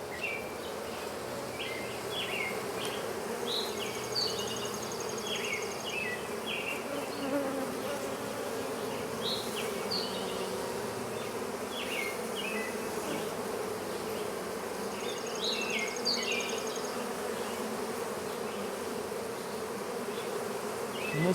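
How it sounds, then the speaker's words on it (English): Bees buzz in a swarm around a beekeeper removing a hive from a cat house, a dense steady drone with individual bees passing close by, no talking. "And there's a lot buzzing around my head"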